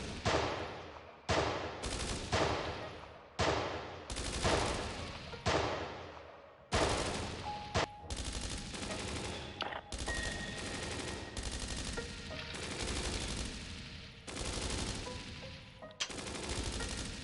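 Repeated bursts of automatic gunfire in the video game Dreams of Another, loud and close, separated by short pauses and running the whole stretch with almost no talk.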